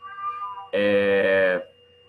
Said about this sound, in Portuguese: se vocês ouvirem meus gatos berrando aqui atrás